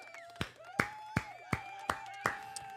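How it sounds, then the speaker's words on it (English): Six slow, evenly spaced hand claps ring out close by, each sharp and distinct with short pauses between, a lone person applauding in a quiet room. "I want to give a round of applause to you."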